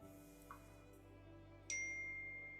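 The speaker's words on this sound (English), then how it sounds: "whoever's phone is going off" A phone goes off during a tabletop roleplaying session, sounding as a brief chime and then a sustained bright electronic ringtone tone that starts partway through and holds steadily over a low background hum.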